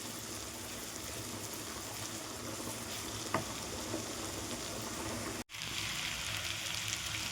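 Onions fry in a pan with a steady, dense sizzle close at hand. It runs on for several seconds with a faint stir and a brief cut near the end.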